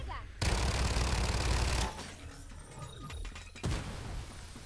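Gunfire in the Farlight 84 battle-royale video game: a sustained loud burst of shots at the start, then quieter crackling shots and mechanical clicks, with a final short burst.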